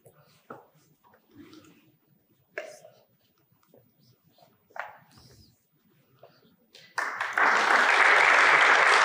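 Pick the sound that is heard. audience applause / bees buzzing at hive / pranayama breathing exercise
audience applause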